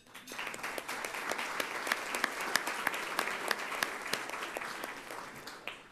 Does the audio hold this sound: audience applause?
yes